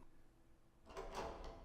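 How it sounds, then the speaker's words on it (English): A door swinging open in the Umineko visual novel, a single soft wooden creak and whoosh rising after a quiet start and fading out, heard alone. "Doors open."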